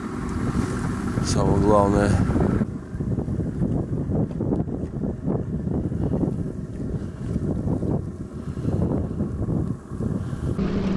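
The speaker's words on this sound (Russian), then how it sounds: "Мотор завелся." A boat motor drones steadily at low pitch on the Volga beneath gusting wind noise on the microphone, while someone speaks briefly near the start.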